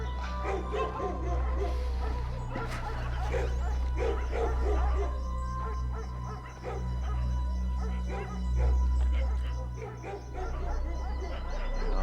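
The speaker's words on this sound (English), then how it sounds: "they're all looking in one particular direction and continuously barking" Several dogs in Mumbai barking and yipping continuously in the distance at twilight, alarmed by a leopard, with whimpering mixed in, over a loud low engine rumble.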